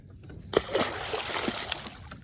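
A big channel catfish is dropped back into the water from a fishing boat, a sudden close splash after a quiet moment, followed by sloshing and trickling water that fades over a couple of seconds.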